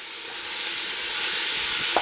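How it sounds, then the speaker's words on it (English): Ground beef for chili sizzles and hisses steadily in a steaming pot as it is stirred and broken apart, a loud, continuous frying wash with no pauses. "Just break down that meat in there"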